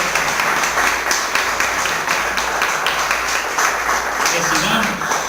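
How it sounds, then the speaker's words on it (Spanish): A church congregation applauds after a sermon, a dense, continuous wash of clapping filling the room at steady volume throughout. "Yo creo que se merece un aplauso."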